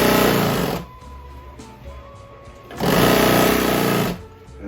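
A sewing machine stitches a cushion in two loud, steady running bursts of about two seconds each, with a quieter pause between them and no voices.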